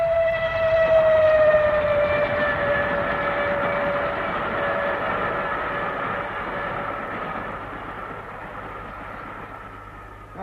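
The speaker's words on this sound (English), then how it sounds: "Bad enough to have the trains banging under one's window all night long" A train passes in a radio drama, opening with a long, loud whistle tone over a steady rail rumble that fades slowly as it moves away, and nobody speaks.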